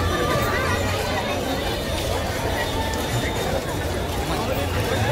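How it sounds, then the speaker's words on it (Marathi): Dense crowd noise fills a palkhi pilgrimage procession: a constant, loud wash of overlapping voices and movement, with steady babble throughout and no single sound standing out. "फुल गर्दी चालली आहे,"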